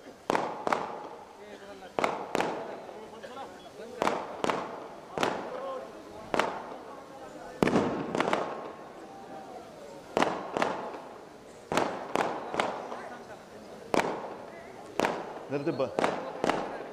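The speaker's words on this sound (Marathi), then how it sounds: "हे फटाके बंद करा रे" Firecrackers bursting at a political rally, a rapid series of sharp, loud cracks in irregular bursts, with someone speaking over and between the blasts.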